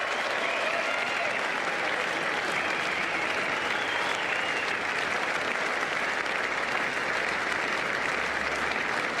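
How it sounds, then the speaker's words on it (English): Cricket crowd at the Gabba applauding batsmen Gillespie and McGrath during a Test match against New Zealand, a small crowd clapping steadily and densely throughout, distant and even with no break. "the smallish crowd today rising again to applaud the efforts of Gillespie"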